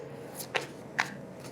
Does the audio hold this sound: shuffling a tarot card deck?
yes